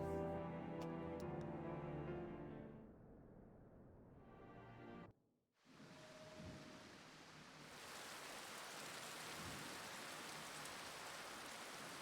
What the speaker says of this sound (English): Rain in Ishgard